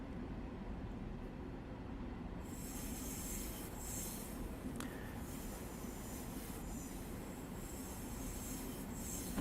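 Long Island Rail Road train in the Train Simulator Classic game, rolling steadily with a constant low rumble of wheels on rail and faint squeal, coasting toward New York Penn Station, no voices.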